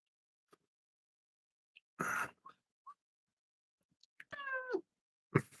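A house cat meows a few times with short gaps, close and clear in an otherwise quiet room, one call drawn out with a rising and falling pitch, followed by a brief soft sound.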